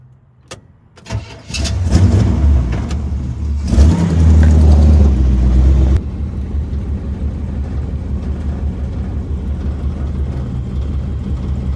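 An El Camino's engine cranks and catches, revs loudly a few times, then settles into a lower running rumble as the car pulls away, close and strong throughout with no talking.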